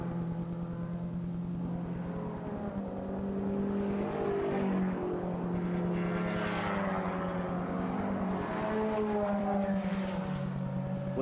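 Saloon cars racing in the 1985 Benson and Hedges 6 hour race, engines droning and revving in a sustained, rising and falling roar as cars pass, steady and moderately loud without voices.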